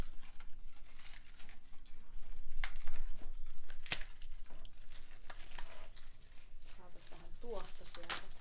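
Sheets of paper are crumpled close up for a fireplace fire, a steady rustling and crinkling with sharp crackles throughout, while people talk at moments.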